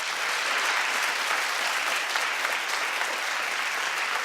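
Studio audience applause on a talk show, a dense steady wash of clapping sustained at even loudness throughout with no break.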